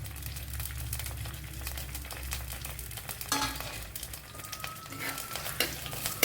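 Garlic cloves, green chillies and a small piece of ginger sizzle steadily in hot coconut oil, with occasional scrapes of a stirring spoon in the pan, close and continuous.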